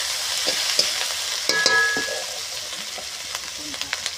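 Chopped onion sizzles in hot oil in a pan while being stirred, a constant close hiss with a few clicks and scrapes from the utensil.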